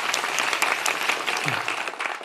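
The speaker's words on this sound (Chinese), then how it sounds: "掌声祝福二位" A studio audience at a televised crosstalk comedy competition claps in a dense, sustained burst of applause that stays loud throughout, with no one speaking.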